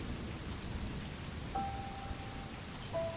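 Steady rain pattering on trees in the survival video game Oxygen: The First Breath, a constant soft hiss at moderate volume with a faint tonal beep over it.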